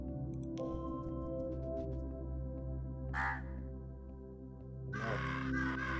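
Crow people cawing in the video game Monument Valley, a few sharp caws over a steady humming game music drone, with a louder burst of cawing near the end.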